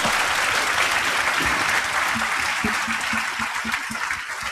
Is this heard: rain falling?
no